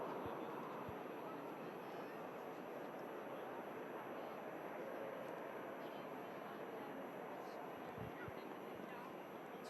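An airliner at Manchester Airport, bound for Prague, gives a steady, distant broadband roar. The roar holds level throughout, with a few faint knocks on top and no clear speech.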